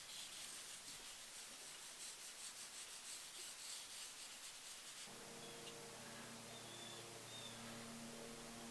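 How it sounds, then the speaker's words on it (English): A kneaded eraser rubs charcoal off a drawing of leaves, a soft close scrubbing hiss of continuous back-and-forth strokes over paper for about five seconds, then fading into quiet room hum. "I use the kneaded eraser to take some of the charcoal off of the leaves."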